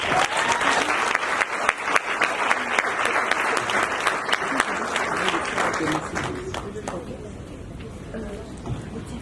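An audience at a school send-off ceremony for the class of 2023 applauds steadily, a dense wash of many hands clapping that fades slightly toward the end, with voices mixed in.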